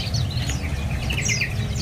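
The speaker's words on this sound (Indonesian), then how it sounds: "Ini ada burung teledekan bakau ya." A caged male bush lark at a bird shop sings a series of short high chirps and trills, moderately close, over a steady low hum of background noise.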